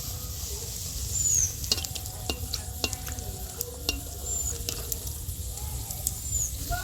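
A chicken patty fries in oil in a pan, a soft, even sizzle with scattered light clicks and taps, faint and close, with no talking.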